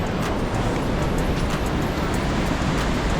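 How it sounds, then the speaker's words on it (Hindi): Fast-flowing mountain river near Govindghat on the way to the Valley of Flowers, a dense, continuous rushing roar of water that stays loud and close without letting up. "देखो गाइस पानी का वेग देखो"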